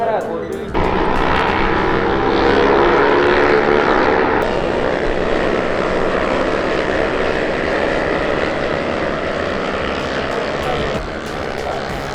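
Loud, continuous engine roar of motorcycles at the start of a race on a mountain track in Japan, rising and sustained, with a sharp burst partway through as machines pass close by.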